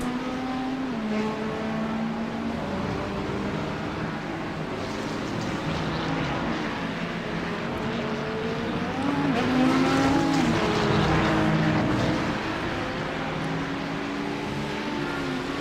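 GT3 race cars circulate at Monza in the iRacing sim, their engines droning and whining through rising and falling pitch sweeps as they pass through the first chicane. The sound grows slightly louder midway and has no voices over it.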